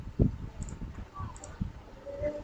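Computer keyboard keys tapped, the Y key then Enter, heard as a sharp close click followed by a few softer scattered clicks over faint background hum.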